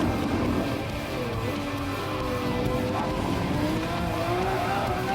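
Race car in Gran Turismo Sport, a LaFerrari or McLaren 650S, braking hard near a bus-stop chicane apex, with a steady roaring engine and faint tire squeal throughout, loud and continuous.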